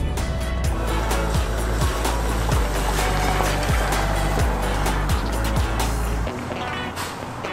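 A Lexus hybrid all-wheel-drive SUV getting under way as its engine kicks in alongside the electric motor, a steady loud low drone with a repeating whine and road rumble that drops off near the end.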